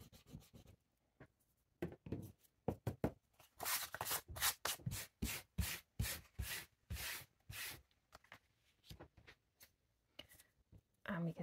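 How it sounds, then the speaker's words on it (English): An eraser rubs pencil lines off a handmade Valentine's card in quick rhythmic back-and-forth strokes, close and scratchy, in bursts that speed up in the middle and pause briefly between runs. "rub out the pencil lines behind the writing"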